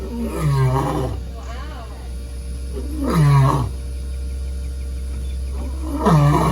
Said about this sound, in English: that's actually pretty cool to hear him roar at this time of day